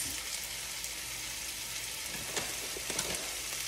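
Ground beef browns in a hot pan with a steady, close sizzle and crackle that stays even throughout, with faint stirring noises toward the end.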